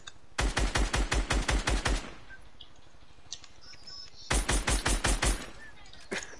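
Video game gunfire comes in two sharp bursts of rapid, evenly spaced automatic shots, loud and close, separated by a quieter gap with faint background sounds.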